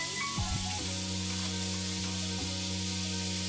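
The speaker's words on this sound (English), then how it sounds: "First, I put in the garlic and butter." Garlic and butter frying in a pan make a soft, steady sizzle, heard alongside a low constant hum and a few brief clinks of utensils.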